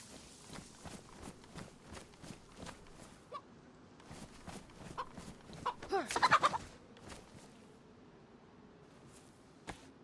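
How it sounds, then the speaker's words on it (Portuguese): Chicken clucking in the survival game DayZ, a few short clucks standing out mid-clip over a busy background of rapid ticking and clattering game sounds, with no one talking. "Tô vendo uma galinha"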